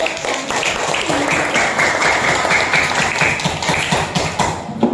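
Students in a classroom during a coding and computational thinking lesson clap for classmates, a close, busy patter of hand claps mixed with chatter and voices in the room.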